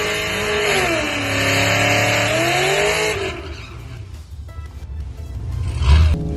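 A Camaro at the Barona drag strip revs loudly and steadily for about three seconds, its pitch rising and dipping. The engine then drops away to quieter, distant rumbling with a short louder burst near the end.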